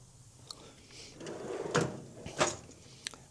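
A workshop drawer fitted with 3D-printed Gridfinity organizers slides open with two short scraping rolls and a soft knock, quiet and close.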